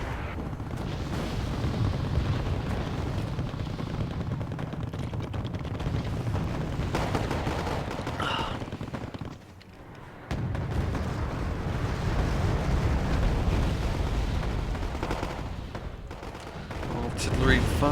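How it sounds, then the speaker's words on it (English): Artillery fire rages in Wargame AirLand Battle: continuous heavy battlefield rumble with repeated booming shots and scattered gunfire. The din drops briefly partway through, then resumes loudly. "Artillery firing on."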